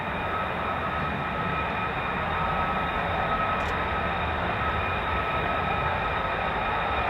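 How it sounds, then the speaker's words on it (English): Several F-35 fighter jets taxi at RAF Lakenheath, producing a steady, broad engine roar with a high whine that holds constant and fairly loud throughout, with no talking. "4 F-35s taxiing down the catwalk."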